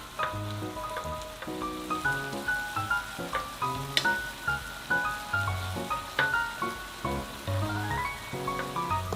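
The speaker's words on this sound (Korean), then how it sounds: "중간중간 간장물을 위로 끼얹어 가면서 졸이세요." Tofu braising in a soy sauce liquid, with chili peppers mentioned, gives a soft steady sizzle and bubbling, punctuated by faint clinks and light taps of a utensil stirring or basting, close and quiet.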